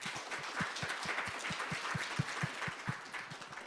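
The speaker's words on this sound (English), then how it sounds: "please welcome Professor Michael Lepek with an extra big" A conference audience at a sustainable finance forum applauds to welcome a professor to the stage, a steady patter of many hands clapping at moderate distance, fairly soft and even throughout.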